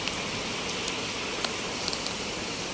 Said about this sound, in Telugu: బయట వర్షం బాగా వస్తుంది కదా